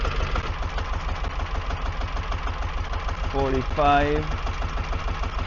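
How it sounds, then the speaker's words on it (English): A Kawasaki Mule 4010 utility vehicle engine idles steadily with a misfiring cylinder, a close, continuous low rumble with an uneven pulse, while a person speaks briefly over it. "Doesn't idle bad, but it doesn't sound so good."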